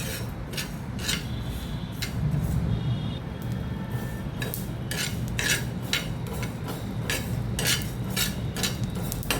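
Whole spices, including caraway and a small piece of cinnamon, dry roasting in a pan over a gas flame, with a steady low rumble and repeated scraping, rattling strokes of a spoon stirring them throughout.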